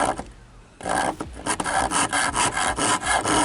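A large rasp file scrapes across wood in long, full-length strokes, loud and close, repeating in a steady rhythmic series after a short quiet pause.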